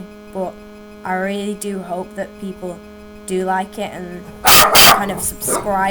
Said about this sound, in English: And that's my dog again.